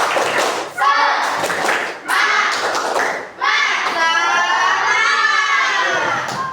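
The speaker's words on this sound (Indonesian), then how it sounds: "Tepuk semangat." Schoolchildren in a fifth-grade classroom doing a rhythmic spirit clap, loud bursts of patterned clapping mixed with shouted chanting voices, broken by brief pauses before the group continues.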